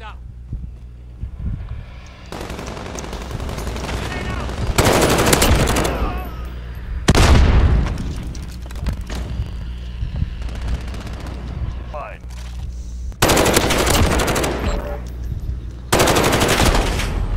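Bursts of automatic gunfire from Modern Warfare come in several loud, dense volleys separated by quieter gaps, with players talking over the action between bursts.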